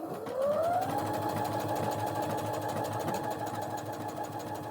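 A Brother RS-260 sewing machine runs continuously while automatically sewing a buttonhole, its motor winding up quickly at the start and then holding a steady, close mechanical hum with a rapid needle rhythm.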